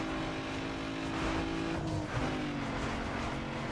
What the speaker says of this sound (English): As I short shift into 4th gear almost immediately.